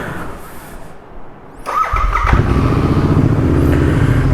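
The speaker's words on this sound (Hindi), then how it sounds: "बाइक को देते हैं कोल्ड स्टार्ट" A motorcycle is cold-started after a brief quiet moment: the starter cranks, then the engine catches and settles into a loud, steady, close-up idle rumble.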